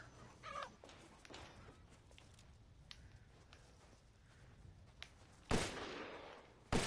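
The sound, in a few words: chicken clucking in Resident Evil Village video game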